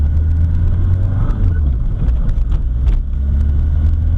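A 1979 VW Rabbit with a 1.6L diesel engine drives along when cold, its loud, steady low rumble continuous throughout, with a brief dip in tone near the middle as a gear change takes place.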